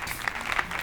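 Congregation clapping in praise at a church service, a brief burst of dense hand claps at moderate level with no talk over it.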